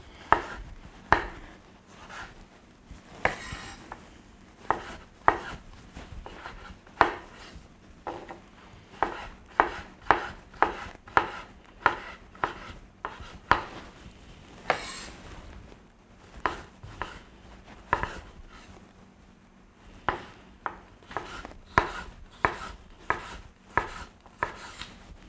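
Tomato being chopped into small kernel-sized pieces on a board, a brisk, irregular run of sharp knife strikes up close with no voices, for a corn and sweet potato soup.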